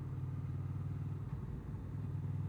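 Honda VFR800F motorcycle engine on a road test ride, a steady close mechanical drone with slight wavering over a couple of seconds.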